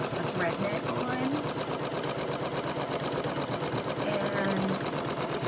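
Embroidery machine stitching with Simthread embroidery thread through a thread net, tension set to 4, giving a steady, fast, even mechanical chatter that runs continuously and close with no pauses.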